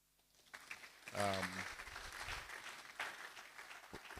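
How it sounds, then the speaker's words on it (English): An audience at a research office gathering, both in the room and joining remotely, breaks into applause that swells and continues, with a voice briefly heard near the start. "I want you to clap for yourself"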